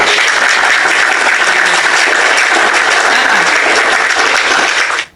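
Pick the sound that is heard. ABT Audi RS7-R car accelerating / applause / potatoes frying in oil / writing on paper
applause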